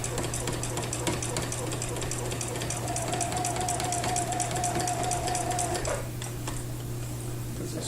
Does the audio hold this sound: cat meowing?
no